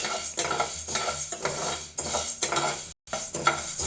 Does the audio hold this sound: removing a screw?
no